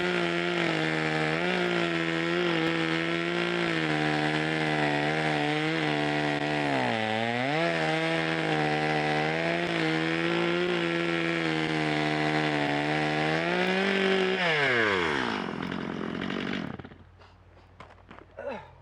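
A chainsaw runs on raw lumber meant for a bench, holding a loud, steady buzzing whine with brief pitch dips for about fifteen seconds before winding down and cutting out.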